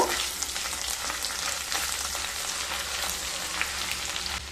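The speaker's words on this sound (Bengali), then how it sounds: "ঘিয়ের মধ্যে দিয়ে দেব এক চামচ আদা বাটা এক চামচ রসুন বাটা দিয়ে একটু মিশিয়ে নেব" A spoonful each of ginger paste and garlic paste hits melted ghee in a pan for Pakistani chicken, crackling in a dense, even sizzle with faint stirring, close and without speech.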